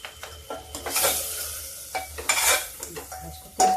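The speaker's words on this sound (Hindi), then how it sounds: "इसको तेज तेज भून लेते" Tomato stirred and fried with salt and hing in a hot pan, close-up sizzling under repeated scraping strokes of a spoon against the metal, with occasional clinks.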